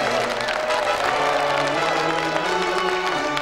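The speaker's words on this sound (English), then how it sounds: "Another round of applause for our special guest tonight, Jadene Doran." A TV studio audience on a games show claps and cheers under background music, a dense, steady round of applause lasting a few seconds.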